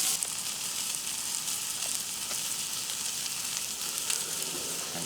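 Poblano peppers blister in a hot pan with a continuous crackling sizzle, moderately loud and steady, sprinkled with small pops and the occasional stir, and nobody speaks.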